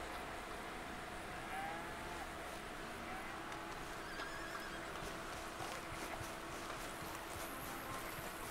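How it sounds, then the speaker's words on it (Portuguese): Farm animals in Red Dead Redemption II near a stable, with cattle lowing amid horse sounds and hoof clip-clop over a steady, busy game ambience. "Aquilo é o quê? Uma vaca também?"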